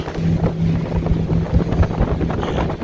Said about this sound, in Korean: 바람이 쌩쌩 불고 있습니다